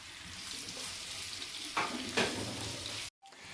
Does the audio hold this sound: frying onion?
yes